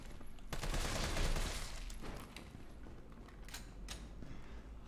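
Gunfire in the Resident Evil 3 Remake video game: a dense burst of rapid shots over the first two seconds, then a few sharper isolated reports, loud against a low rumbling game background.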